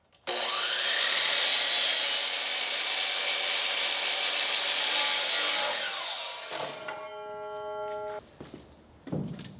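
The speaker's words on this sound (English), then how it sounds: "I cut a few boards to the right length to push it out at the top." A saw cutting wooden boards to length for a welded metal-frame shop workbench, one long steady loud rasping cut that trails into scattered knocks and clatter as the piece comes free, close with no talk.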